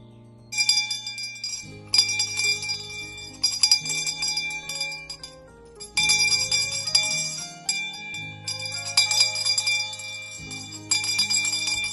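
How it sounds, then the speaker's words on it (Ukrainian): Bright bell-like chimes ringing in repeated bursts over a steady low musical backing at a school last-bell ceremony, loud and continuous with no talk. "прощальний і останній наш дзвінок"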